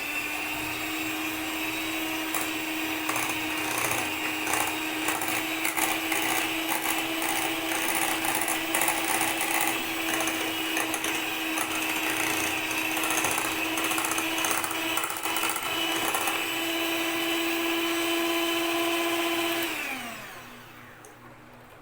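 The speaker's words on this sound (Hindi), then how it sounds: "तो 5 मिनट तक हम इसको और बीट करते हैं।" An electric mixer beats an ice cream mixture with a steady, loud motor whine and rattling beaters for about twenty seconds, then winds down and stops near the end.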